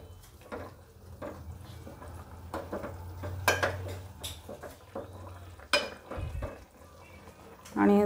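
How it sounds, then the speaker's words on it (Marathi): Stuffed brinjals (eggplants) are turned over in a pan. Intermittent clinks and scrapes of a utensil against the pan sit over a quiet sizzle, with a scattering of close, sharp knocks. "आपली वांगी आता थोडीशी आपण पलटून घ्यायची आहे ना"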